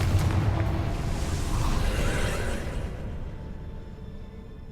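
A Confringo blasting spell detonates in Hogwarts Legacy with a loud, full-bodied boom that rumbles and fades over several seconds, alone without voices.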